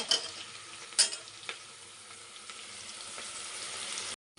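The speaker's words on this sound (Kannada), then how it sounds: "ಇವಾಗ ಇದಕ್ಕೆ ಈರುಳ್ಳಿ ಹಾಕ್ತಾಯಿದ್ದೀನಿ. ಈರುಳ್ಳಿನೂ ಅಷ್ಟೇ ಸ್ವಲ್ಪ ಫ್ರೈ ಆಗಬೇಕು" Onions fry for egg biryani in a pan with a bright continuous sizzle, with a few close utensil clinks and scrapes near the start. The sound cuts off abruptly at the end, and there is no talking.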